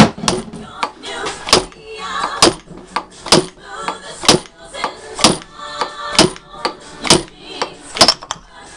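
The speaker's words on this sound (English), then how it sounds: "basically use the fork shaft as a hammer to pull it out. So we're going to whap it a few times." Repeated sharp metallic whacks as a motorcycle fork shaft is slammed like a slide hammer to knock out the fork oil seal on a 1982 Honda XR200R, about a dozen loud close strikes in a steady rhythm.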